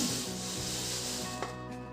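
Roasted poha is scraped from a pan onto a plate with a continuous, close, gritty rubbing and scraping sound over two seconds.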